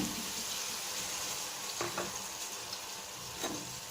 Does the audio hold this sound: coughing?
no